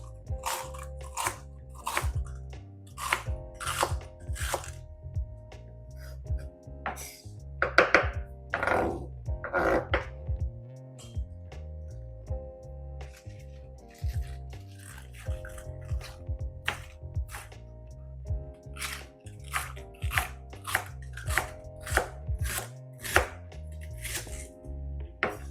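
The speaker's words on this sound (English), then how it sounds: "It's one of my favorite vegetables, bok choy. We're just gonna chop it up." A knife chops bok choy on a board in a quick, irregular series of sharp crisp cuts, close and clear, with short pauses between bursts and no talking.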